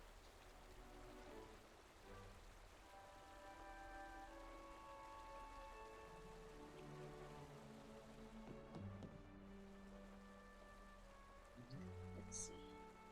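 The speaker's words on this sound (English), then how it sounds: "It's this waterfall." A video game waterfall gives a steady rain-like hiss and patter, fairly quiet and continuous, mixed with soft background music tones and a person talking briefly.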